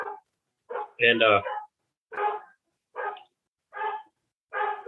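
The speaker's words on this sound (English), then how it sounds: "Put the dogs out back." Dogs bark indoors in a series of about six sharp bursts, the second one loudest and most layered, spaced evenly and fairly close, with a brief spoken word at the start.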